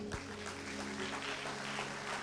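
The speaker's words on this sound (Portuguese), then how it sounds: "Se você crê nisso, aplauda o Senhor." A church congregation claps in a brief, steady burst of applause heard from within the crowd, fairly soft and with no voices above it.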